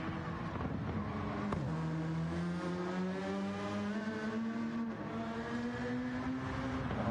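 A small French race car screams through the gears in a racing video game, its high engine note climbing steadily with a quick shift midway, loud and continuous without any voices.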